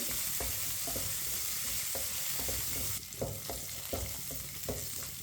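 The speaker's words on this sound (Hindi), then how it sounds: "सब चीज़ों को 2 मिनट के लिए भून लेंगे।" Semolina and other ingredients for halwa roast in a pan, a steady broadband sizzle with repeated scraping strokes of a spoon stirring throughout, close and fairly loud, with no talk.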